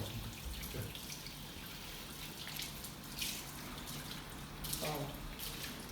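Water from a tap runs continuously while hair is washed at a barber shop, a close, steady rushing wash with faint splashes and brief murmurs of talk.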